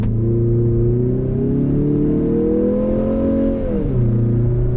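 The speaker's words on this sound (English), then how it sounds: "Now let's feel the power with the trailer on. I'm going from a dead stop, foot to the floor." A 2023 Mazda CX-50 towing a trailer accelerates hard from a dead stop at full throttle, its engine droning loudly and rising steadily in pitch before dropping briefly at an upshift and climbing again.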